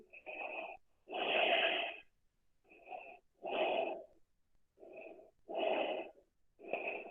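Slow, deep breaths drawn while holding a seated yoga pose, about five long inhales and exhales in a steady rhythm, close and fairly quiet with brief silences between them.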